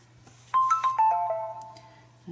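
A mobile phone rings with a short run of bright descending electronic tones, fairly close and clear over a steady low hum, ending as a faint voice begins.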